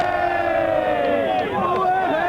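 A stadium crowd roars at a student rugby match between Scotland and Ireland, a loud, swelling mass of voices that rises and shifts throughout.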